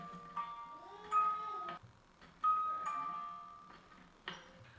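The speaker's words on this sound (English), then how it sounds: "a music box that's attached to it. So when you rock, it makes this sweet little" A music box built into a thrifted rocking chair plays soft, sustained tinkling notes in two separate bursts as the chair rocks, fairly quiet and close, with short pauses between.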